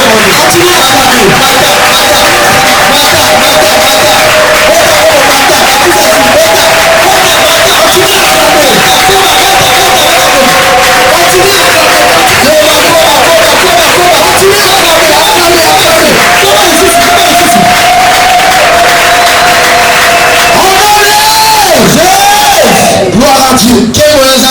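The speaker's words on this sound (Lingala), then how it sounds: "on commence un peu à acclamer plus fort" A church congregation at a prayer service acclaims and cheers loudly in a dense, sustained roar of voices and shouts that keeps going without a break.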